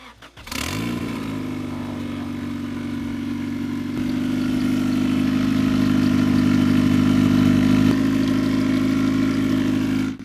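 A Honda Civic turbo engine in a restored project car cranks and catches within the first second. It then settles into a loud, steady idle that grows slightly stronger and stays close throughout, with no talking.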